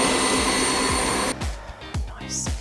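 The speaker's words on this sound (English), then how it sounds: "so let's whisk it up." An electric whisk whips purple meringue with a loud, steady motor whine that cuts out partway through, leaving short clatters and fainter whirring after it stops.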